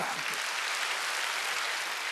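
A church congregation claps at a Sunday worship service, an even, sustained patter of many hands that holds at a steady moderate level from start to finish, with no voices over it.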